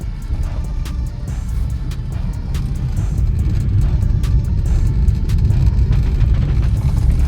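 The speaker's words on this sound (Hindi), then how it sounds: "गाड़ियां चल नहीं रही भाई, रेंग रही हैं" Cars inching through a traffic jam in Kasol, Himachal Pradesh, give a steady low engine rumble with faint passing vehicle noise, fairly close and continuous throughout, with no voices.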